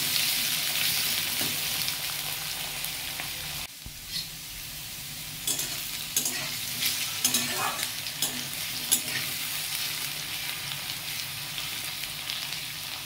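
Chopped potato pieces fry in a pan with a steady hiss and sizzle, broken by occasional stirring scrapes and light clinks of a utensil against the metal, close and continuous throughout.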